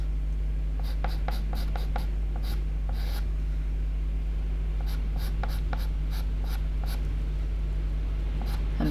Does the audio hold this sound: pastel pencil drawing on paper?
yes